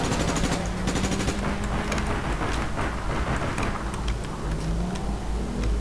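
Sustained automatic gunfire in a game, fired at a target fleeing by car, with a rapid machine-gun rattle running steadily over engine noise for several seconds.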